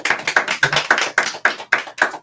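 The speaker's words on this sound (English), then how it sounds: "Round of applause for Miss Joni." Audience clapping in a radio studio, a steady, rhythmic run of sharp, even claps landing about three or four times a second, close and fairly loud, with no talking over it.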